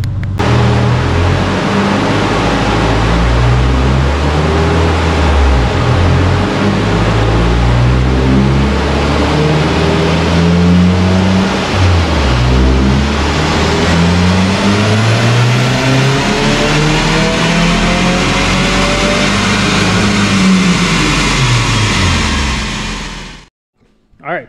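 A 2022 Subaru WRX with a Cobb stage 1 tune roars through a sustained wide-open dyno pull, its engine note climbing and dropping repeatedly, loud and close, with a voice faintly in the background.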